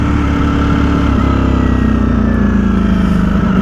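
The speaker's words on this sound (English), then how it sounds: "It is loud for a stock exhaust, like the Panigale V4 I had." A 2023 Ducati Streetfighter V4S with its stock exhaust runs steadily and loud, its engine note sitting close and continuous with only a light throttle blip and no talk.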